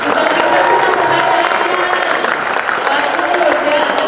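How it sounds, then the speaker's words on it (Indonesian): A crowd claps steadily for a group of students at a school event, dense even applause throughout with cheering and voices mixed in, fairly loud and close. "Tepuk tangan dulu buat adik-adik."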